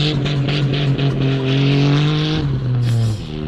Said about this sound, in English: Here's a blow off valve